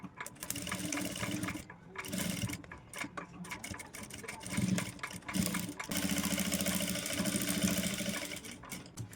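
Sewing machine stitching saree blouse fabric into a purse, a fast close mechanical whirring run in bursts with short pauses between them, steady and moderately loud, with no talking over it.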